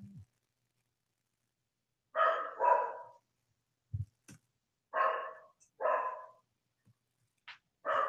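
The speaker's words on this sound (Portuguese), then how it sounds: "Agora apareceu o cachorro." A dog barks in a few separate bursts, two double barks followed by a shorter one, with quiet gaps between them, during an online discussion about public health policies for women.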